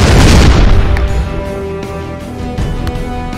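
A tank cannon in a video game fires with a loud, heavy boom at the start that rolls into a long fading rumble, with a few further thuds later and no talk.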